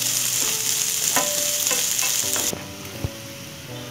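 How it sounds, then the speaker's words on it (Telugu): Capsicum, carrot and green peas frying in hot oil, a loud close sizzle with a few stirring knocks; the hiss drops off partway through and the frying continues more quietly. "వేసుకొని జస్ట్ 1-2 మినిట్స్ మనం ఈ వెజిటేబుల్స్ని ఆయిల్లో కుక్ చేసుకుందాము."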